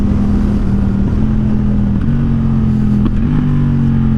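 A Suzuki GSX-8R motorcycle fitted with a full aftermarket exhaust pulls hard uphill, its engine note droning steadily and climbing through the revs, with brief dips at shift points and no talking.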